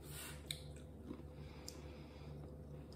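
Crunchy mini cheddar-style cheesy snack being chewed close up, a steady run of soft crunching bites with a few sharper clicks, alone with no talk.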